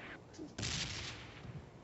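A sudden burst of PUBG gunfire played on a Samsung S10 phone, a sharp loud blast trailing into a rattling echo, with quieter sounds before it.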